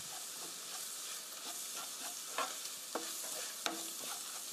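Flour stir-fried in a pan with olive oil for tofu in cream sauce, a faint, steady sizzle with a few light scraping strokes of a utensil and a brief click near the end, no voices.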